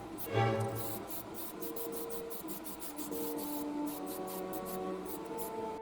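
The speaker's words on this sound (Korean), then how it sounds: "이제 무광마감제를 뿌려 도색을 마감해줍니다." Matte finishing coat sprayed from a can onto painted figure parts: a steady close hiss broken by a few short pauses and bursts, with no voices.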